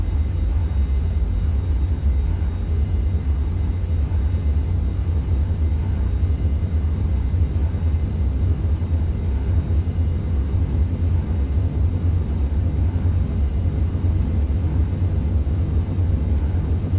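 Simulated Boeing 737 jet engines in X-Plane 11 during the takeoff roll, a steady, heavy low roar and rumble that holds constant throughout with no speech.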